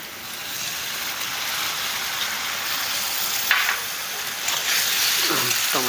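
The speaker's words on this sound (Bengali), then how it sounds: "এতে এবার আমি টমেটো কুচি দিয়ে দেব।" Chopped tomato hits hot oil with ginger and garlic in a pan, giving a steady close sizzle with a few stirring scrapes toward the end.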